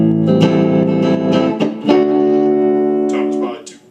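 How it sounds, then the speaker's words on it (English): A Carvin DC135 electric guitar plays a clean tone on the neck and middle pickups with the tone knob turned down, ringing sustained chords and picked notes up close, full and warm with a little effect shimmer. "I like putting on the neck and the middle pickup for the clean tones"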